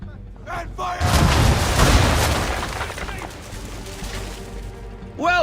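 Ship cannons firing round shot in Assassin's Creed III, a heavy booming broadside rolling out in overlapping blasts that swell and decay over several seconds, loud and close, with a voice calling out near the end.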